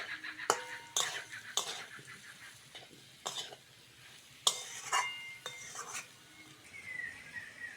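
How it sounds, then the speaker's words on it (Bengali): Spices with fried onion and potato being stirred in a pan, several sharp metal spatula scrapes and clinks against the pan over a low sizzle, close up, no voices. "মশলাটা ভালো করে কষে নিয়েছি"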